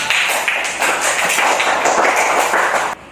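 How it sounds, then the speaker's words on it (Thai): A spoon taps a water-filled bottle in a classroom pitch experiment, a steady run of bright, ringing taps repeating through the clip at close range, with no talk over them. "ซึ่งถ้ามวลของน้ำในขวดมากเมื่อใช้ช้อนเคาะนะครับ"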